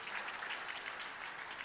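A church youth-service congregation claps in a quiet, steady rush of many hands, faint and distant, with no speech over it.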